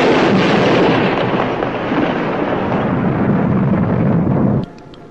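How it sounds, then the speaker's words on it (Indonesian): A bomb blast in an old Indonesian action film roars as a loud, sustained rumble for over four seconds, then cuts off sharply into quiet. "Bom sialan."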